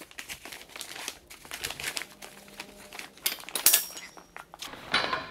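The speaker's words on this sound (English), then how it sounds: "You slide a new one on and basically just work in reverse by putting the side rails back through the side of the cot top fabric." Nylon cot top fabric on a Teton camping cot crinkles and rustles as it is slid back onto the metal side rails, with scattered scrapes, a few sharper clacks near the end, and no talking.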